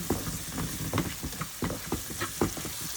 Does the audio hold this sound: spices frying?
yes